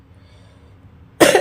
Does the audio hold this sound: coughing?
yes